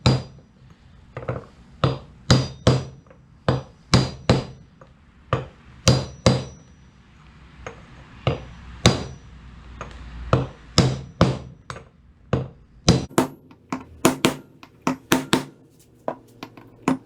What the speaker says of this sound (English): I have a mallet, and I might just try tapping on this outer edge.